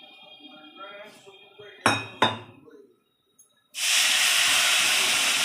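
Water poured onto dry-roasted semolina with salt and chili flakes in a hot pan, after a couple of sharp metallic clinks, bursts into a loud, steady, close sizzling hiss that runs to the end.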